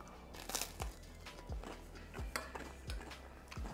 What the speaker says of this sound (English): So I'm gonna spoon a nice spoonful on and take a bite.